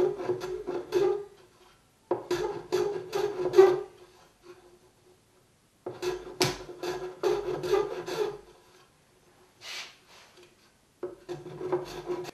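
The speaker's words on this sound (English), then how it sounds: "I'm going to take a block blade and just clean them up a little" Block plane trimming the corners of a wooden box, a series of short rasping shaving strokes grouped in bursts with quiet pauses between, close and clear.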